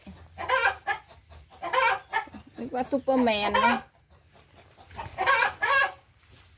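Chickens on a rural Thai egg farm cluck and squawk in repeated loud bursts, with one drawn-out crow-like call in the middle, while a voice speaks briefly between the calls.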